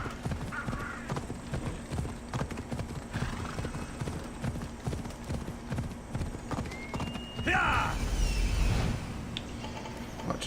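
Horse hooves clip-clop steadily in Assassin's Creed Odyssey, a continuous trotting rhythm with a whinny partway through, under game ambience with no talk.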